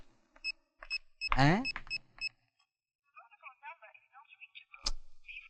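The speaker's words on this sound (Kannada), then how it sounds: "ಒಂದ್ ಫೋನ್ ಹಾಕು" A mobile phone being dialed to place a call: a run of short, evenly spaced keypad beeps, then a voice speaking, followed by a faint warbling tone and a sharp click.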